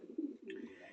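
A racing pigeon, a 2022-ringed bird, coos in a low, soft, throaty rumble, two close phrases heard near and alone in a quiet space.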